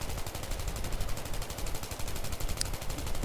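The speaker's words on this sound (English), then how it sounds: "I just start shooting because you know that somebody's going to be in there." Rapid automatic gunfire from support guns in Battlefield 3 hammers on without a break, loud and close, one sustained burst of dense repeated shots.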